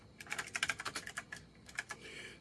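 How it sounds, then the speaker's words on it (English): Rapid clattering keystrokes on an Apple II computer keyboard, a close, quick run of about a dozen clicks with a short pause before a few more, alone with no voices. "if you type the I key, you can start typing again"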